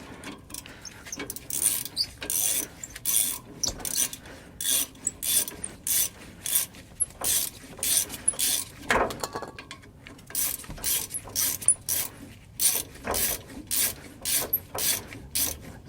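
A corroded rear stabilizer link on a GM SUV is unthreaded with a ratchet, giving a long series of rapid clicking bursts and short pauses, close and steady with no talking.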